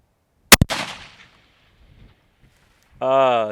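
A single sharp rifle shot from a budget long-range rifle firing Hornady ammunition at a steel target 1,000 yards away cracks loudly, then a rolling echo fades to near silence before a voice starts.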